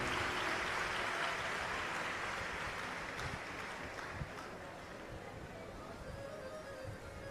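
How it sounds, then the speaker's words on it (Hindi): Crowd applause, dense and steady, welcoming the host family at an outdoor Shiv Mahapuran religious discourse during continuous rain, fading slightly toward the end with no talk over it. "यजमान परिवार के लिए एक बार जोरदार ताली बजाकर स्वागत, वंदन, अभिनंदन।"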